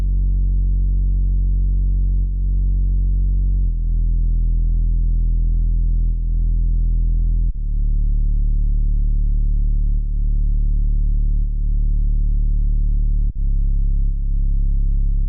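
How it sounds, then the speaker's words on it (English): A key bass synth plays the bass line of a slow lofi song alone, with sustained low notes changing every couple of seconds in a smooth, steady groove. "this is what the bass part sounds like."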